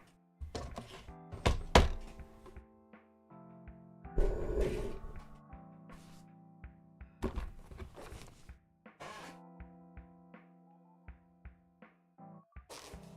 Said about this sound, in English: Nice, weighty metal dice.